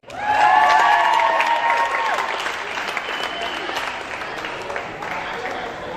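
An audience at a high school award ceremony applauds the award recipients, with loud, dense clapping mixed with some cheers that peaks early and then holds steady, and a few voices can be heard in the crowd.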